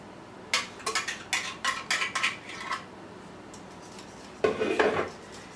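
A whisk clinks and scrapes against a bowl while broth mixture is mixed, in a series of quick metallic bursts, then a pause and one more brief flurry of clatter.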